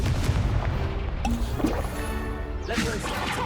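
Incendio fire spell cast in the video game Hogwarts Legacy, a loud whooshing blast with a deep boom, layered among other dull impacts and game effects, with a voice calling out.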